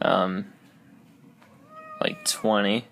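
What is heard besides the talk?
cat meowing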